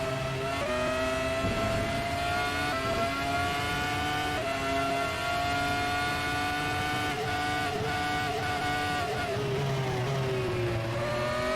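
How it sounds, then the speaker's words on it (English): A Formula 1 race car in a video game league race at Autodrom Most, engine revving with a loud, sustained high-pitched whine that holds steady and dips slightly near the end, no voices over it. "Revving the engine up a little bit"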